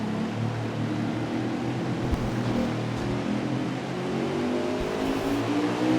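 Stock cars in a Cup Series race at Kentucky rev hard on a restart after the green flag, their engines a steady, dense roar heard from inside a car at moderate volume with no pauses.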